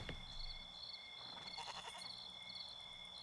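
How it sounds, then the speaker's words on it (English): Goat in a video game bleating once, a faint wavering call partway through, set over a quiet game ambience of steady tones and soft background noise. "And there's a goat out there."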